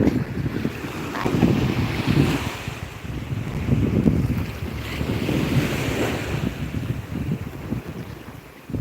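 Sea waves wash onto a beach in slow, rolling surges, loud and close, with wind buffeting the microphone and no talking.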